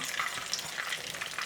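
Battered masala fish fries in oil with a continuous crackling sizzle, broken by a few sharper pops and light scraping as the pieces are turned with a fork and flat spatula.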